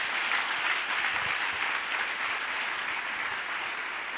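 A church congregation applauds together in one continuous, even burst of clapping that fills the room at a steady level without breaks.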